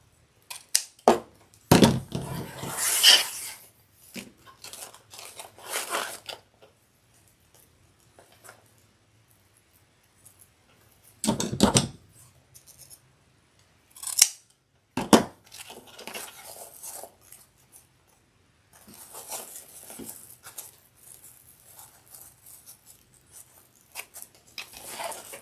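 Scissors trimming ribbon tails on a Christmas bow, a scattering of sharp close snips and crunchy cuts with long quiet gaps between them.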